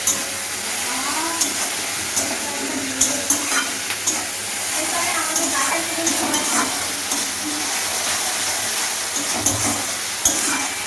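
Ground spice paste with two dried and two green chilies stirred in a pan, a steady sizzling fry with repeated scraping stirs of a spoon against the pan, close and continuous.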